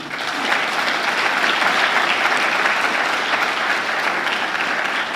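A church congregation applauds together in sustained, dense clapping that stays loud and steady for about five seconds with no voices over it.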